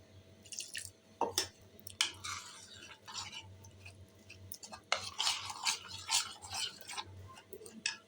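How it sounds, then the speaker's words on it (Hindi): Batter being mixed by hand while water is added a little at a time for a leftover-roti breakfast dish, giving soft wet stirring and slapping with scattered clinks and drips, close and steady, with no talking. "ये देखिए थोड़ा थोड़ा पानी डालना है आपने और इस तरह से मिक्स करना है।"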